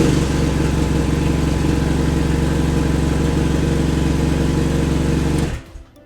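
A BMW F800GS motorcycle engine idles steadily and loud at close range with a buzzing, high-revving tone, then cuts off abruptly near the end, leaving quiet.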